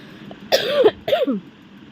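Two harsh coughs in close succession from someone with a severe cough, close and loud against a quiet room.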